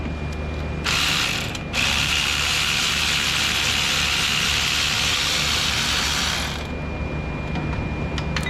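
A ratchet wrench loosening the idler pulley bolts on a 1999 Jeep Wrangler, one long, fast, continuous clicking run, loud and close, with a short pause near the start and a low engine-bay rumble beneath.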